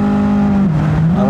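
Engine of a 1997 Honda Civic Type R EK in a racing video game, a loud steady engine tone that dips in pitch at an upshift and then climbs again.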